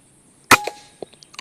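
A B-Zad Klein VR-1 air rifle fires one sharp, close crack, followed by a short ring and a few faint clicks and taps.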